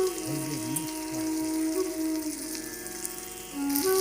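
Spices with chilli powder and ginger paste fry in a pan, giving a steady, moderately loud hiss and sizzle with a faint wavering tonal sound underneath.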